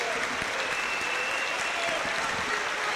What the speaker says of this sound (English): Girls, let's give a big round of applause to the students that came up to Murfreesboro.